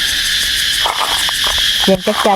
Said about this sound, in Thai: นี่จะเสียงจักจั่น